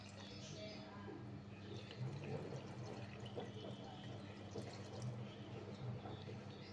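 Water is poured over fresh rose petals in a container to make homemade rose water, a soft continuous splashing trickle with light drips, quiet and close, with a voice talking faintly underneath.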